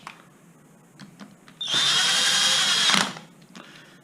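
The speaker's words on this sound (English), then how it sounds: "I have my setting on about 5 on my power drill" A power drill on a low clutch setting whirs loudly for about a second and a half, driving bolts through a motor into the gearbox of a Zip X5, close by, with faint clicks and handling noises before and after.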